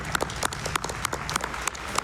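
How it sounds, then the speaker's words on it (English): An audience at the Awesome Games Done Quick speedrun marathon applauds steadily, many hands clapping in a dense, continuous patter with a few sharper individual claps standing out. "can I please get a round of applause"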